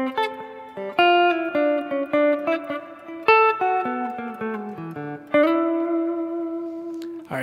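Electric guitar plays a lead phrase from a solo, a quick run of clear picked and pulled-off notes followed by a held final note that rings out.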